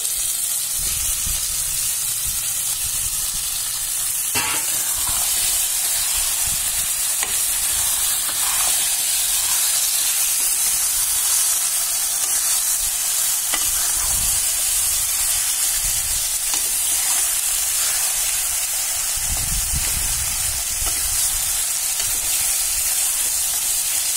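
Mutton pieces for tahari fry in hot oil with a loud, steady sizzle and hiss throughout, punctuated by occasional soft stirring knocks and scrapes in the pan.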